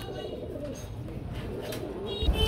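Big black pouter pigeons coo at a crowded pigeon market, a low, soft, burbling coo under a constant hum of background noise.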